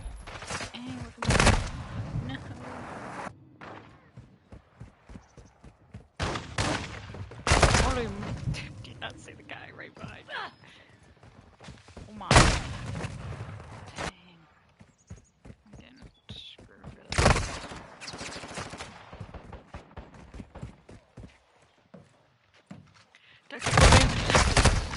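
Call of Duty gunfire in repeated loud bursts and rapid volleys spread over the stretch, with quieter gaps of game noise in between and no talk.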